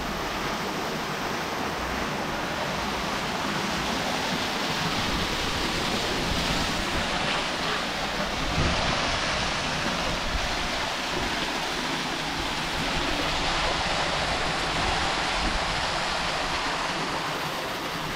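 Water streams steadily down from a ceiling in a house's ground floor, a constant broadband rush like a small waterfall that continues evenly and fairly close, with no talking.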